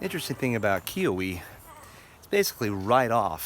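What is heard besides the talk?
No everyday noise stands out behind the speech.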